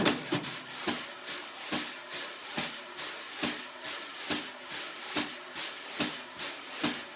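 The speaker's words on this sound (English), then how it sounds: "use sort of horizontal sweeping motions on the drum, on the snare drum" Soft, hissing jazz brush sweeps in horizontal motions on a snare drum, with brighter swishy accents landing at a steady, even pulse, played alone and close.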